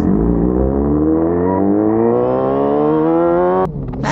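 A motorcycle engine revs close by, its pitch climbing smoothly for several seconds before the throttle cuts off abruptly near the end.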